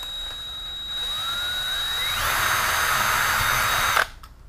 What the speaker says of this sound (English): I could just drill out the little hole where it goes